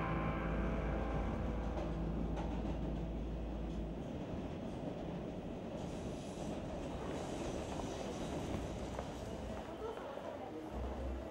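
A subway train runs on its rails with a continuous rumbling roar, rhythmic clickety-clack of the wheels and faint squeals, loud and close for the whole stretch.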